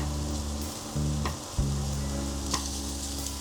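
Onions and garlic frying in a pan give a steady close sizzle, with a couple of brief clatters partway through and no talking.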